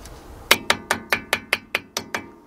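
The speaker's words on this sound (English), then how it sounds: "Lightly tap it with your hammer." Eight light metallic hammer taps on a wheel dust cap of a 2000 Dodge Ram 1500 van in an even rhythm, each a sharp ringing click, close by with no talking.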